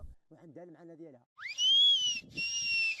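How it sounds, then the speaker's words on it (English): A short spoken phrase is followed by loud, piercing whistled tones that glide and hold like whistled speech, close and clear, the whistled language of Morocco's High Atlas. "they would repeat the same thing by whistling"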